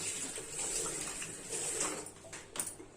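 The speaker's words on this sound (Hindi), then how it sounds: "यहाँ पे भी प्लेटफॉर्म पे हम हल्का सा पानी डाल के यहाँ पे साफ कर देंगे" Water is poured lightly onto a kitchen platform to clean it, a soft continuous pouring and trickling close by, ending with a few sharper splashes and clinks near the end, no talking.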